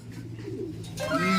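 A pigeon coos softly, a low throaty warble that swells toward the end of the clip. Faint background noise runs underneath it.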